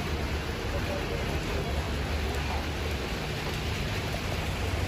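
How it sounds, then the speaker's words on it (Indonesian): Steady rain hisses across the whole clip at a bus terminal in Makassar, Indonesia, a dense, even wash of noise with a low rumble beneath, like rain falling on a road or roof. "Sayangnya hujan."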